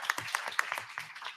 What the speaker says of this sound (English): I want to extend the applause to you as well